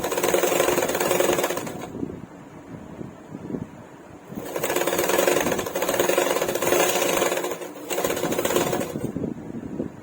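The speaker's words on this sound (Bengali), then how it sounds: "তো এইভাবে দুটো মুখ ধরে ধরে কিন্তু সেলাইটাকে দিয়ে নিতে হবে।" A sewing machine stitching a double-katori blouse runs in three bursts of fast, loud, rattling mechanical whirring, with short quieter pauses between runs and no speech.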